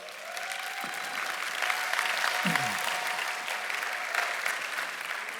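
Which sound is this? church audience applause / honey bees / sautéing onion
church audience applause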